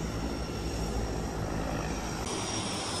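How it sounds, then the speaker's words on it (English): A seaplane's propeller engine drones loudly and steadily at a busy seaplane terminal in the Maldives, a constant close roar filling the whole stretch with no talking. "It's an airport full of seaplanes."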